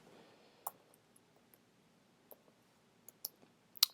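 Computer keyboard typed on while writing Python code: scattered light clicks and taps, a handful of irregular keystrokes over a quiet background, the last one sharper and louder.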